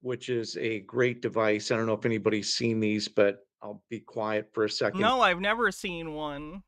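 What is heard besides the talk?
No distinct noise like a dog, phone or traffic.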